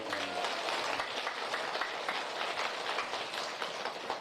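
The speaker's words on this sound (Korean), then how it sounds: "박수 한번 보내주세요." Audience applause at a lecture in a senior welfare center, a continuous dense patter of many hands clapping evenly for several seconds, somewhat distant.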